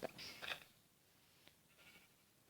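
Sheep in the video game Minecraft give a couple of short bleats near the start, then the sound tails off into faint quiet noises.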